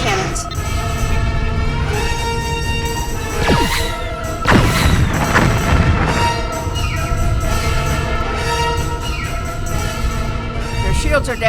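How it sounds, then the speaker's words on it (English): Sci-fi disruptor cannons fire in a space battle, sweeping energy blasts and crashing impacts layered over a loud, busy score, with a big burst in the middle and dense continuous action throughout. "Target that ship and fire all disruptor cannons."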